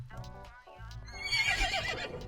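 A horse in a video game neighs loudly and close, a shrill whinny rising and wavering over a low rumble, with faint hoof clops at the start.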